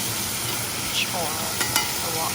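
Beef sizzles steadily in a hot wok as it is stir-fried, a continuous loud hiss broken by a few sharp scraping clinks of the spatula near the end.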